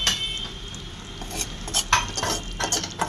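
A spoon stirs curry with chopped coriander leaves in a pan, quick scraping and clinking strokes over a low sizzle, close and irregular.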